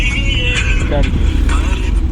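A car engine running in third gear during a driving lesson gives a loud, steady low drone with road rumble, close and continuous, under brief talk.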